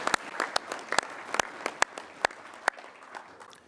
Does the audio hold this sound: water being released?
no